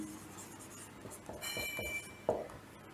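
Faint scratchy strokes of writing on a surface during a class 9 physics lesson on work and energy, with a small clink near the end in a quiet room.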